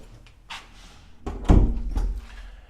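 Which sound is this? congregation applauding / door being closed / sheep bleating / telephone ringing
door being closed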